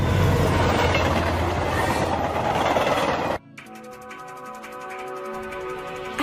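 An out-of-control train in an anime gives a loud, dense rumble and clatter for about three seconds. It cuts off abruptly into a quieter, different scene.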